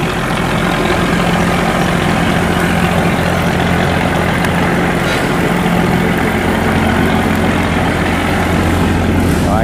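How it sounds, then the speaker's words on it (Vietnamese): A barge's heavy diesel engine drones steadily as the vessel leaves a lock at a saltwater-control sluice gate, a loud, even low rumble close by with voices talking over it. "Rồi xà lan này thì"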